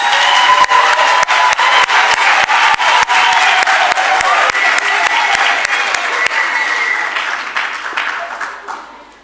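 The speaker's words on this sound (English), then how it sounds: "let's give our graduates another round of applause" A graduation ceremony audience applauds the graduates of a training institute with loud, steady, dense clapping and some cheering, running long before fading near the end.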